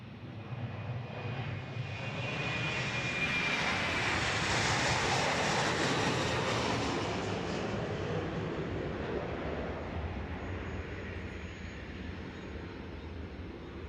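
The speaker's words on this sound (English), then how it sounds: "Southwest 1580 to Orlando is rolling now." A Southwest Airlines Boeing 737-800 jet rolls for takeoff at Dallas Love Field, a broad, steady engine roar that swells to a peak midway and then eases off slightly, loud and continuous with no talk over it.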